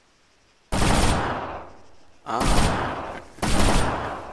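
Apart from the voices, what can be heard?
gunshots in the video game ARMA 3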